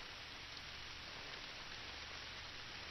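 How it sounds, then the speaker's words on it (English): Rain falls in theHunter video game on a Mississippi wild hog hunt, a faint, steady hiss with no pauses. "See, it's raining"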